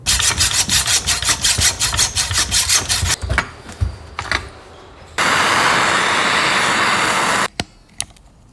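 Abrasive work on stuck bolts of a 1987 Honda CR500 motorcycle: close, rhythmic rasping strokes give way to a loud, steady grinding burst lasting about two seconds before cutting off abruptly.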